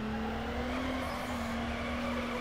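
A car drifts in Need For Speed Underground, its engine droning steadily while a sustained tire squeal runs through the whole stretch, loud and unbroken.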